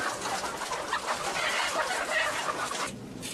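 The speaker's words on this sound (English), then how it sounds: "Just one shed at Buckeye Egg Farm confines tens of thousands of hens in tiny battery cages." Dense chorus of tens of thousands of hens clucking and squawking in tiny battery cages inside an egg farm shed, continuous overlapping calls that thin out briefly near the end.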